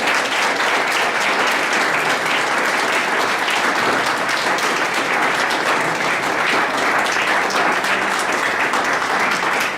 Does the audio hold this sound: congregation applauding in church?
yes